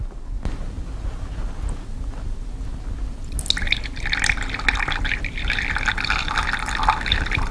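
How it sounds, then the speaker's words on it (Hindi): A stone dropped into a glass of water for an Archimedes principle demonstration makes a small early knock, then a few seconds later a burst of splashing, bubbling water over a steady low background hum, close by. "अब मैं ये पत्थर इस पानी में डालूंगी,"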